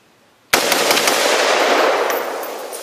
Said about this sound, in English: Let's take a couple of quick shots here in the dirt.